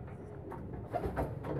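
Pigeons coo softly inside a loft where sick birds are being treated, a low, muffled murmur of calls that swells slightly toward the end of the short stretch.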